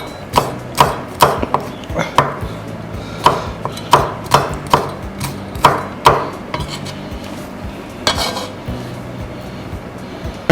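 Red Thai diamond chilies being chopped with a knife on a board, a steady run of sharp, close taps in short bursts with brief pauses, heard alone without talk.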